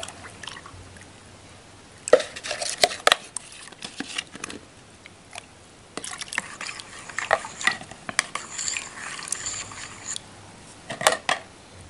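Rice washing water poured evenly into a homemade flower-booster fertilizer mixture and stirred, giving close, intermittent splashes and dribbling patter in bursts with short quiet gaps.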